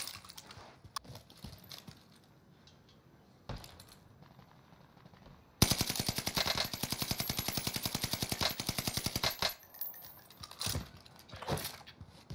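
KGM40 gunfire in a video game, a long rapid burst of closely spaced shots lasting several seconds, preceded and followed by scattered single clicks and impacts.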